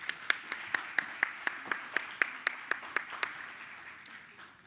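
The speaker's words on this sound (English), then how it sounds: "We have one more round of applause for those talented students." Steady clapping from a crowd at a school board meeting with a regular pulse of sharper claps, moderately loud and fading slightly toward the end, no voices.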